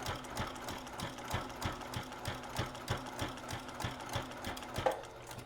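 A sewing machine runs steadily, stitching ribbon onto a minky tag blanket with a fast, even mechanical chatter that carries on for several seconds with no speech over it.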